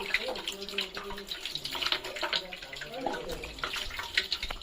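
Water pours from a tap into an empty drinks bottle, a gurgling, splashy flow that runs throughout and rises and falls close by, with faint voices in the background.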